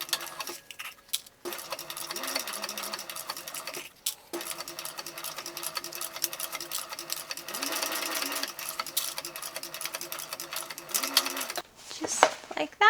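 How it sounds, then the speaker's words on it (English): A sewing machine stitches a backpack seam in rapid continuous runs, pausing briefly a few times before starting again, close and clear with a soft mechanical whir. "Now you want to stitch this on with a 1/4 inch seam allowance."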